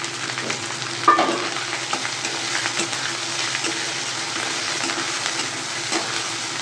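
Gobindobhog rice fries in a pan with a continuous close sizzle. Scraping stirs sound through it at an irregular rhythm, and there is a slightly sharper clatter near the start.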